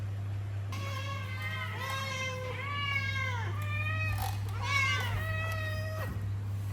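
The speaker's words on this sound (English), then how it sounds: "I can't stand hearing the meow meow meow all the time." A hungry cat meows repeatedly, about five drawn-out, rising-and-falling cries in a row, close and clear over a steady low electrical hum.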